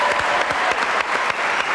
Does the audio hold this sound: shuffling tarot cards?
no